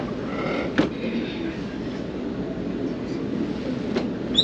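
Steady low rumble from inside a moving train carriage in Sydney, with a couple of faint clicks and knocks over the constant rolling noise.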